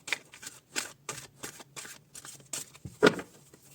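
Two tarot card decks are shuffled for a reading, giving a rapid series of crisp riffling bursts close by and fairly quiet, ending with a sharper final snap.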